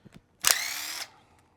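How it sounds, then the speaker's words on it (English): A brief, close whir of a 2mm driver spinning a screw and washer off the end of a small RC motocross rider's handlebars, lasting about half a second after a couple of faint clicks. "I'm gonna take my 2mm driver and just take the screw and washer off the end of the handlebars on both sides."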